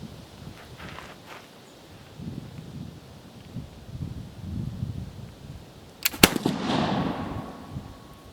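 A 1525-style arquebus fires once with a sharp, loud close crack followed by a brief rumbling tail, after several seconds of quiet outdoor rustling.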